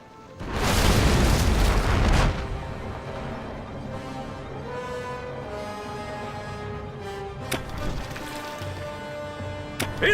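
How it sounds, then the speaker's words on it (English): Ship cannons fire in the video game Anno 1701, opening with a loud, sustained booming blast that lasts about two seconds. A lower rumble follows, with a few sharper pops near the end. "Man the cannons!"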